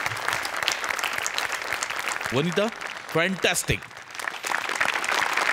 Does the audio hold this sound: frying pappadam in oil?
no